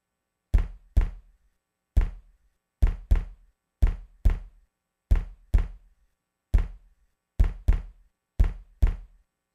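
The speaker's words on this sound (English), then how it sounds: "I'll let you hear the fist hitting the door" A fist strikes a door, sampled as percussion, in sharp, dry, booming knocks that come in pairs and singles with clean gaps of silence between them. Each hit is heavy and low with a quick decay.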